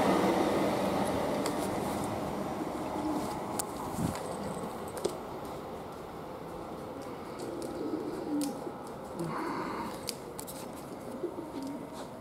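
A GWR Class 802 train rumbles and hisses as it pulls away from Swindon station, loud at first and slowly fading, with scattered clicks and birds cooing in the background.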